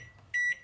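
A kitchen timer gives a short, loud electronic beep, a steady held tone lasting about a fifth of a second, with the start of another beep at the very end, in a quiet kitchen.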